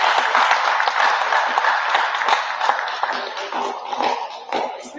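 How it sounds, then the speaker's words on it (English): Another round of applause rises from a group at the Ōtara 4.0 gaming program, a loud and busy patter of clapping hands that runs steadily throughout with a faint constant hum beneath. "Another round of applause."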